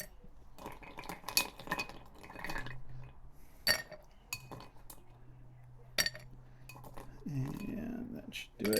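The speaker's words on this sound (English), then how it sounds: "So we're going to start by loading up our stirring glass with some ice." Ice being loaded into a stirring glass for a stirred bourbon cocktail, with a run of clinks and rattles in the first seconds, then a few sharper knocks and clinks up close, alone with no talk.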